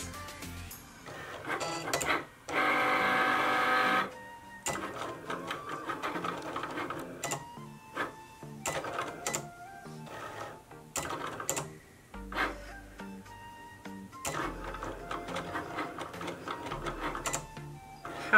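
An electronic cutting machine slices material for a homemade clear purse, giving a busy mechanical whir of motor runs, short buzzing bursts and clicking carriage moves in uneven stops and starts, close and moderately loud with no talk.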